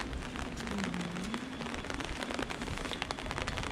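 Rain pattering steadily in a town square in Ivano-Frankivsk, a dense, continuous hiss of drops on pavement with a faint low hum beneath.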